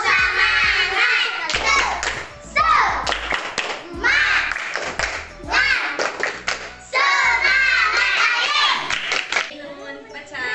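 Schoolchildren in a classroom perform a rhythmic spirit clap, bursts of patterned hand claps mixed with chanted voices, repeating in several short sections.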